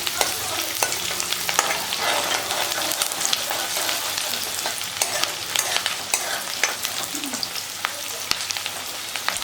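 Onions sizzle and crackle in hot oil for a mung bean curry while a spoon scrapes and stirs through them repeatedly, a busy continuous frying sound close by.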